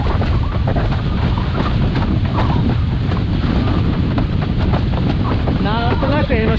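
A windsurfer planing upwind on open sea near Enoshima, with a loud, unbroken roar of wind and rushing water dominating throughout.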